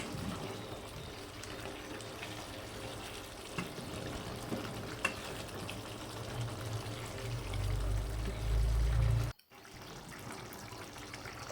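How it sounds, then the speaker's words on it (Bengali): Water pours steadily into a cooking pot of mixed vegetables with drumsticks, potatoes and pointed gourd, a close continuous splash that swells louder before stopping abruptly. "আমি এখানে আবার চার কাপ জল অ্যাড করেছিলাম"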